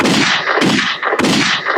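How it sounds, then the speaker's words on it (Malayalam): Firecracker bangs go off during a youth stage performance: three loud, sharp blasts about 0.6 seconds apart, each with a brief crackling tail and no voices in between. "ആരാടാ പടക്കം പൊട്ടിച്ച?"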